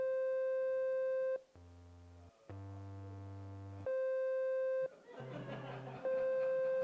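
Steady pure electronic tones, each held for about a second, switching between a high pitch and lower buzzier tones with brief gaps, clean and unvarying.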